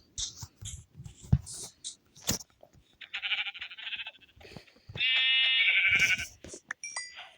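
Sheep bleat repeatedly nearby, a few short cries followed by longer wavering calls, with one loud sustained bleat near the end amid shuffling and other livestock noise.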